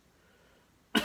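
A single short, sharp cough bursts out at the very end after near silence, in a quiet indoor setting.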